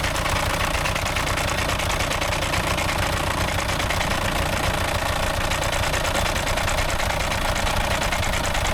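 A VW Golf engine undergoing repair runs with a rattly, knocking clatter, a steady loud mechanical drone held close and unbroken, with no voices.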